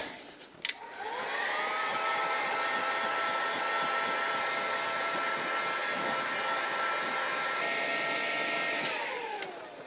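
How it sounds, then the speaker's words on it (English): A heat gun blows steadily while drying dabbed paint on a Citroën AZU, with a clicked start, then a continuous close whirring hiss of fan and airflow that holds evenly before winding down. "And then use the heat gun to dry that up."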